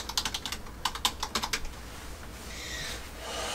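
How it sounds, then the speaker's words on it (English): Rapid clicking keystrokes on a 2018 MacBook Air keyboard, close and crisp, in two quick bursts followed by a soft rubbing noise. "Here's the 2018 version."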